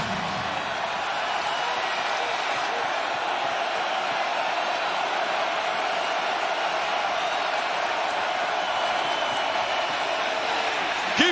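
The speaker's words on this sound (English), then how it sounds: "Crowd trying to bring some energy." A college football stadium crowd at Wisconsin versus Minnesota sends up a broad, steady roar of cheering and noise that holds evenly throughout, distant and diffuse with no distinct voices standing out.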